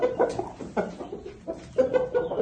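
A young cockerel, a chick hatched at the end of April and now weighing 4.35 kg, gives four clucks in a row. The clucks are close and clear, with short pauses between them and no talk.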